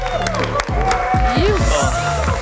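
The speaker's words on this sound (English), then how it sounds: "A huge round of applause for Fridge taking out first place" A crowd at the Absolutpark Spring Battle 2023 ski award show applauds and cheers a first-place winner; steady clapping and whoops mix with an announcer's voice over the top.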